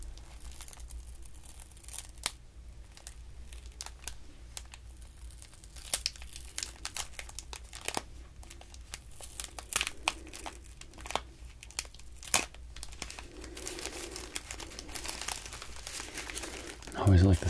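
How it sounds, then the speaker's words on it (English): Bright green tissue paper crinkles and crumples close up in a quiet room, a steady run of crisp rustles and sharp crackles with occasional louder scrunches, and a soft voice murmurs beneath. "I always like the sound of tissue paper."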